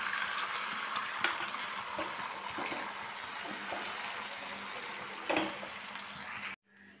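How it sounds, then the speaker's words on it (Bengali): An egg fries in hot oil in a frying pan with a steady, close crackling sizzle and a couple of brief clatters, then the sound cuts off near the end. "প্যানটা খুব ভালোভাবে গরম হয়ে গেছে। এবার আমি ডিমটা দিয়ে দিলাম।"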